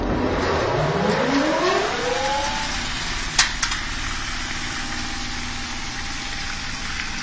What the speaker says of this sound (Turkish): Gördüğünüz gibi arkadaşlar şu an makine çalışıyor